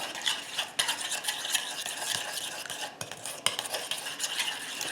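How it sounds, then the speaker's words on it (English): Garlic and oregano are stirred in a pan with a utensil, giving steady scraping and clinking strokes over a soft sizzle, close and moderately loud with no talk. "just kind of stir it up"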